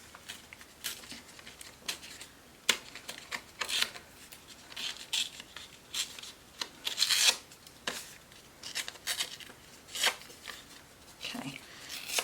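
Paper being torn by hand for a scrapbook layout, a series of short, close, papery rips and rustles in irregular bursts at low level.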